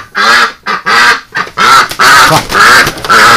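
A duck quacks loudly and close, giving about seven rapid, honking calls in an uneven rhythm with short gaps between them, during winter.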